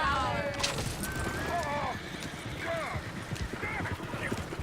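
Horses in the Red Dead Redemption 2 video game, hooves clip-clopping steadily while several neighs and whinnies rise and fall over a busy outdoor background, fairly distant and moderately quiet.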